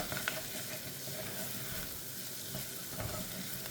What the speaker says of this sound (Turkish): Şöyle birazcık bu kavrulsun. Karıştıra karıştıra kavrayayım.